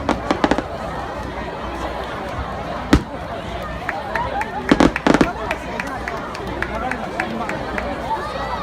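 Festival fireworks at the Yassa Festival display in 2017 burst in scattered sharp cracks and booms, some near and loud, others distant, over a murmuring crowd with voices talking.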